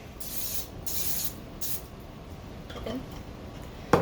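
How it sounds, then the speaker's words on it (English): Three short hissing bursts from an olive oil spray bottle onto fries, evenly spaced and close by, followed by quieter rustling and a small click at the end. "We're gonna spray them a little bit more with this olive oil."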